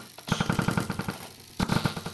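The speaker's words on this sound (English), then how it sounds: "whenever a redstone signal next to them changes, they'll shoot out something or other" Minecraft dispensers triggered by a changing redstone signal fire off a fast string of sharp clicking shots, in two quick bursts with a brief pause between them.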